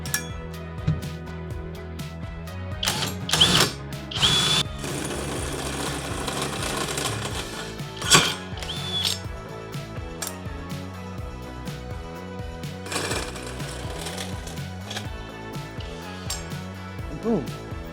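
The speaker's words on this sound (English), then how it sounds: "Once we've made our notch, we're gonna move our hole saw up." A hole saw cutting at an angle after a notch is made, a loud close whirring grind with rattling and chattering bursts, pausing and restarting several times, while a person talks over it.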